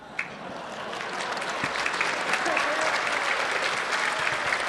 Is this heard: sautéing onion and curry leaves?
no